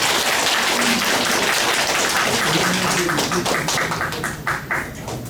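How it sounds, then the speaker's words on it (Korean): An audience of cooperative members applauds at a Dong-Seoul agricultural cooperative gathering before a cabbage-growing lecture. Dense, sustained clapping fills the room, then thins into scattered claps, with a voice speaking over the tail. "격려의 박수를 다시 한번 부탁드립니다"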